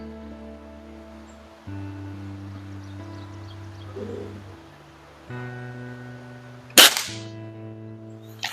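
A Beeman C1 carbine air rifle fires a single shot, one sharp, close crack standing out near the end against a steady low hum and a quiet background.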